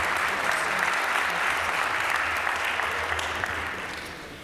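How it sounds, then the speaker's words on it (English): Audience applause at a Rotary meeting honoring Cincinnati police recognition recipients, a steady dense wash of clapping that holds level and fades slightly near the end. "Let's give them another round of applause on all the recipients."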